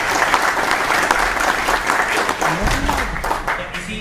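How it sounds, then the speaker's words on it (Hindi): A large indoor audience applauds loudly and continuously at an insurance agents' event in India, a dense, steady clapping that lasts throughout with no voices standing out. "एक बार सर के लिए जोरदार ताली।"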